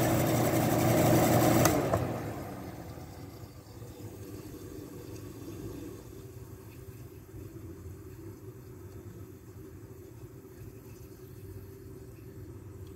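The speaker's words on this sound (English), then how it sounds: "Listen to that Freon flow." Emerson Quiet Kool window air conditioner humming steadily after a louder burst in the first two seconds, a low even drone of compressor and refrigerant flow with no talking.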